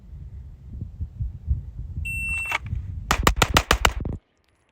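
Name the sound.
RSU Arms Odin ported compensated gun firing six shots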